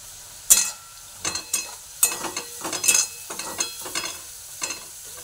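Fried prawns tumbled into hot, sizzling oil for a Bengali prawn curry, with a spatula stirring in short scraping bursts over a steady crackle, close and moderately loud, no voices.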